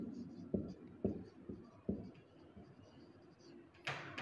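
Writing on a board during a thermodynamics lesson, a few distinct taps and short strokes, close and fairly quiet, ending with a brief louder swipe.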